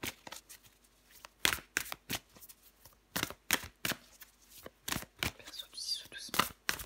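A tarot deck is handled close up, with crisp card flicks and shuffling snaps in an irregular run as a card is drawn, quiet and intimate, with faint whispering in between.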